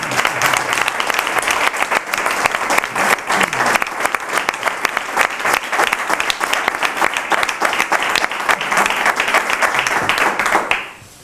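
An audience at a book launch in Aznalcázar gives Paco Casero sustained, dense applause that holds steady for about eleven seconds and then fades out quickly at the end.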